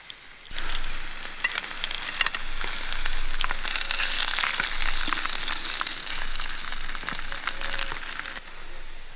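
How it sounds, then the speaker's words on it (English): Steady crackling sizzle of bacon frying in a pan on a British Army stove, dense popping and spitting throughout, close and fairly loud with no talking. "Bacon sizzling."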